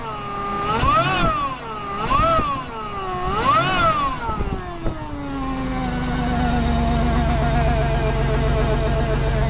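Supercharged Toyota Celica Supra track car with an Eaton M90 on a 5MGZE engine, revved three times in quick rising-and-falling blips, then settling into a steady, droning idle with supercharger whine, loud and close.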